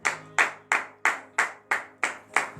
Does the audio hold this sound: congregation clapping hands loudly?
yes